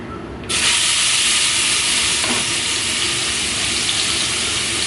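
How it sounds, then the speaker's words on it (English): Onions hitting hot crackling oil set off a sudden loud, dense sizzle that starts at once and holds steady and close, hissing continuously without letting up. "And once they start to crackle, you add the onions into it."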